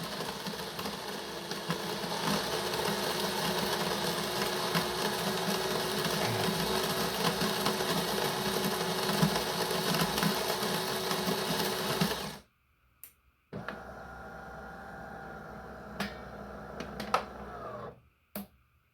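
A De'Longhi Dinamica Plus bean-to-cup espresso machine making espresso: a loud, steady mechanical buzzing grind for about twelve seconds, then a brief pause, a clunk and a quieter steady hum with a few clicks.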